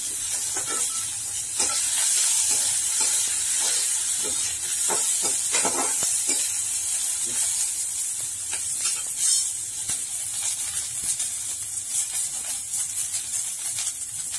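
Onion, curry leaves and green chilli frying in a pan, giving a continuous loud hiss and sizzle with scattered crackles and stirring scrapes, close up and without talk.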